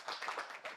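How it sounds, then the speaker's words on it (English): Audience at an Inter-Religious Council of Kenya peacebuilding meeting clapping for themselves: a short, close burst of many hands applauding together, brisk and fairly loud, lasting under a second. "Clap for yourselves."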